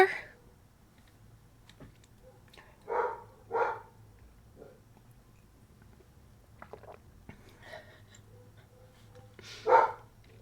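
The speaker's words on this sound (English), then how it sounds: "Oh, the dogs are barking." A pet dog barks through a door at a neighbour's dog, several sharp barks in short bursts, separated by quiet gaps, over a faint steady hum.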